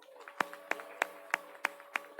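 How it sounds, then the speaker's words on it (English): Sparse, evenly spaced claps ring out at a school district board meeting, about six sharp hits in a steady rhythm, fairly faint and close, with a low hum beneath. "Let's give them a round of applause."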